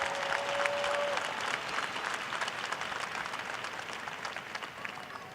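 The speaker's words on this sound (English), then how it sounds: "We applaud you." Applause from a large commencement audience at a college graduation, a dense, steady wash of many hands clapping that fills the hall and holds loud for several seconds before easing slightly.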